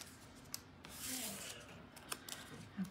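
Scissors cutting out a paper card piece, heard as quiet close snips and rustling paper rubs, faint and intermittent.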